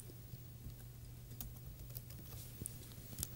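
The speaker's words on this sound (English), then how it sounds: "Type in a name for the file" Light clicks from a computer keyboard as a file name is typed, a quiet, irregular patter of keystrokes over a steady low hum, ending with a louder tap.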